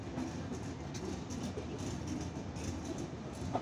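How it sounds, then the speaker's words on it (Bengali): The Silk City Express passes through Soydabad railway station in Sirajganj without stopping, with a steady rumble and rhythmic clatter of wagons on the rails, moderately distant and continuous. "আপনারা দেখতে পাচ্ছেন ট্রেনটি চলে যাচ্ছে সিলসিটি এক্সপ্রেস"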